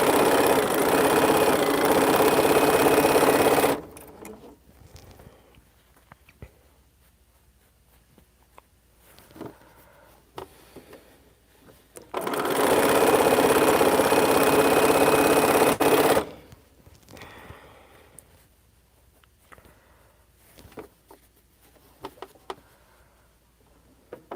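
Sewing machine stitching quilt block halves together, two steady mechanical runs of about four seconds each, loud and close, separated by quieter stretches of faint handling clicks and rustling.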